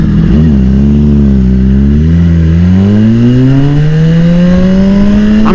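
A BMW S1000RR sportbike with a new rear set rides past loud and close, its engine note dipping briefly then climbing smoothly and continuously as it accelerates hard, with no voices.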